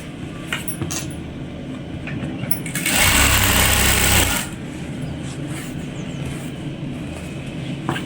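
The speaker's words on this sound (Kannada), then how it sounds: "ಎಲಾಸ್ಟಿಕ್ ಲಾಕ್ ಆದರೆ ಈ ರೀತಿ ಸರಿಸ್ಕೊತ ಸ್ಟಿಚ್ ಮಾಡ್ಬೋದು" An electric sewing machine stitches elastic onto a pair of pants, its motor rising to a loud, steady whirring run of about a second and a half between quieter handling noise, with no talking.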